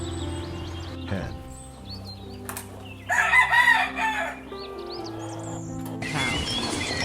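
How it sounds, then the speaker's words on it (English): A hen calls with a burst of clucking and crowing-like cries near the middle, over a steady low background, with a few sharp squawks at the start and end. "Hen."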